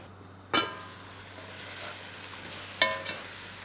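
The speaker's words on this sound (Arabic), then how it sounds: "حشوحها هيك تشويح مع بعضها واسيبها لبدا دقائق" Chicken sautéing in a pan with onion, garlic and spices for a chicken kabsa, a soft steady sizzle with two sharp stirring clatters, close and alone.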